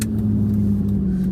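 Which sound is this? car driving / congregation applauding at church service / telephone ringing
car driving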